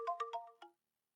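Short electronic phone ringtone of four quick bright tonal bursts, clear and isolated, ending abruptly into silence.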